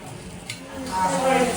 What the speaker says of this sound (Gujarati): હવે બધું એડ કરો ને તો ખબર પડે. મિક્સ કરી દો બધું.